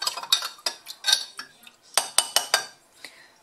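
Homemade cleaning liquid with a little dish soap being stirred in a jar: a quick run of sharp metallic clinks and scrapes of a utensil against the sides, irregular and close, with brief pauses.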